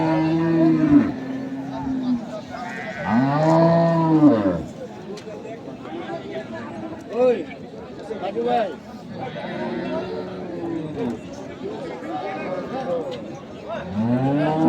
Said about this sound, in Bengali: আমবাড়িহাটে যে দুধের গাভী গরুগুলো প্রায় বিক্রয় করা হচ্ছে